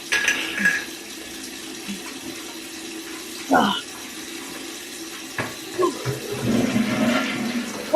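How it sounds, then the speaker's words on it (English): A household toilet flushes with a sudden rush of water and gurgling, followed by running water and faint clinks, heard fairly close in a small room with no one speaking. "Why is she flushing the toilet?"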